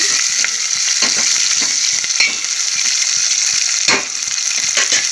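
Curry leaves frying in oil for a bottle gourd sambar, a bright, loud sizzle with frequent sharp crackles and scraping stirs against the pan, close and continuous without talk.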